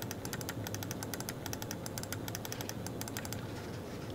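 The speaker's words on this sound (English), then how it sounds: "Yeah, the side button sounds different." Rapid, regular clicking from the side buttons of a Razer Viper Mini ultralight gaming mouse, close and crisp, a steady run of small clicks over faint background hiss with no talk.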